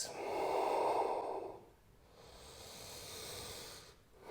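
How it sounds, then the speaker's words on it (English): Slow, deep breaths during a yoga sequence, a long loud exhale rushing through the nose followed by a softer, airy inhale, heard close and alone. "2 more deep breaths."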